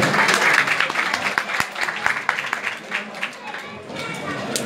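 Lively clapping from a crowd at a village iftar gathering, uneven and loud at first, then thinning slightly with chatter mixed in.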